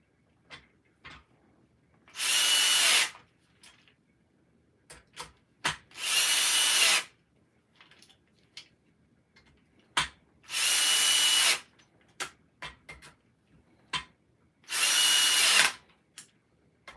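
A power drill drives fasteners down in four steady whirring bursts, each a second or so long, with small knocks and handling clicks between them, close and clear with no talking.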